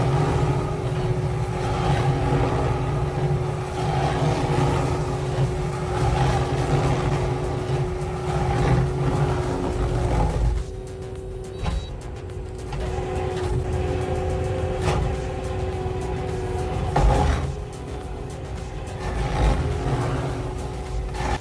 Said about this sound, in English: An extremely large and hard tree stump is being removed by a specialized stump grinder.